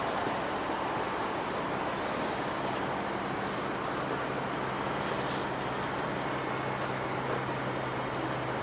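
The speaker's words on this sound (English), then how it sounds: "We see those gusts of wind" Strong gusts of wind buffet an outdoor microphone at a memorial marker rededication, a constant loud roar with no pauses and no voices.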